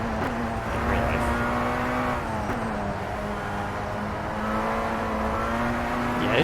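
A Tatuus race car engine in the rFactor 2 sim racing game hums at a steady, slightly wavering pitch, a fairly constant drone with small rev changes throughout, moderately loud and with no speech.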